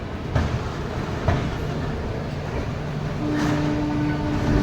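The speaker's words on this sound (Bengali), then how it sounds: "হাওড়া স্টেশন থেকে ট্রেনের ডিপার্চার হয়ে গেল" A train pulls out of Howrah station, a steady rumble of wheels on rail running throughout, with brief rattling bumps and a sustained low horn-like tone rising near the end.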